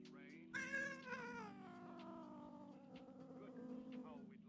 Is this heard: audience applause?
no